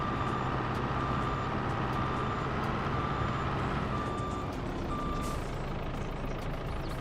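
A Vermeer farm vehicle in Farming Simulator reverses at full steering lock, its steady engine rumble topped by a repeating series of intermittent reversing beeps, close and loud throughout.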